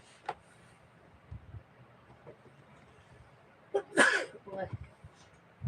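A single sneeze bursts out at close range during a home livestream, with a few smaller breathy sounds after it and a fan humming in the background.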